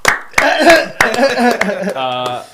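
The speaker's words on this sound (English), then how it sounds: "Let's clap it up." Hosts of a live talk show clap with a few sharp, close claps amid their own overlapping talk and laughter.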